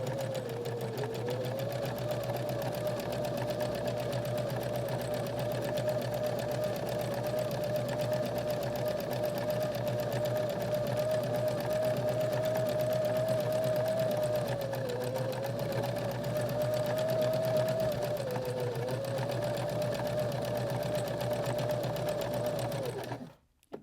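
A sewing machine stitches steadily around the edge of an upcycled shirt, running nearly unbroken for over twenty seconds with a close, even whir, slight pitch dips as it slows, and a sudden stop at the end.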